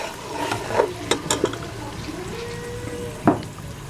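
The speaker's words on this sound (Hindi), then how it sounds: "ये जी मसाला भून रहा है अच्छी तरह से" An onion and tomato masala paste fries in a pot for a beef trotters dish, with a low steady sizzle broken by a few sharp scrapes and knocks of stirring, close and fairly loud.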